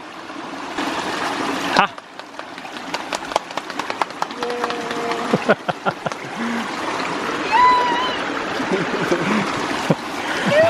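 A homemade half-inch ram pump cycles at an abandoned greenhouse, its repeated clacks and water rush filling a pressure tank, with steady flowing water throughout and a brief spoken exclamation.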